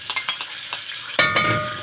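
Onion dropped into a pan of frying tomato sauce for Egyptian koshari and stirred, a burst of loud sizzling after a few soft scraping stirs, then steady frying hiss.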